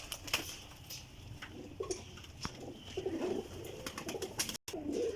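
Pigeons coo softly in a small loft in Sarai Alamgir, Jhelum, with faint bird calls and rustling, low and close, no talk.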